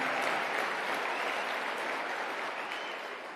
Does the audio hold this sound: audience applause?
yes